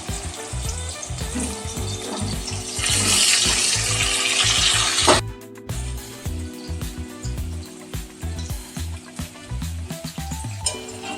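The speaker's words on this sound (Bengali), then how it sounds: "হালকা করে একটু ভেজে নেব।" Raw jackfruit pieces frying lightly in oil already seasoned with salt and turmeric, for a Bengali mutton keema and jackfruit dish; a steady, loud sizzle with a brief clatter midway and no talk.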